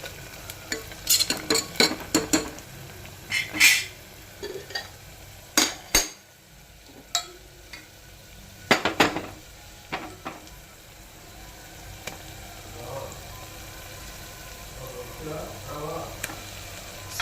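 Ginger garlic paste frying with onions in a pan for a goat leg paya dish, heard as a low steady sizzle broken by sharp clinks and scrapes of a spoon stirring against the pan, close and moderately loud.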